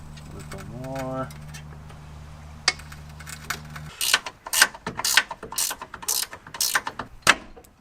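A ratchet tightens a car's upper ball joint, a series of sharp, uneven clicking bursts up close after a low mechanical hum, with brief speech near the start.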